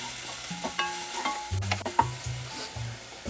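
Green onion and ginger-garlic paste frying in hot oil in a pan for vegetable soup, faint sizzle under repeated spatula scrapes and taps against the pan, close, no talk.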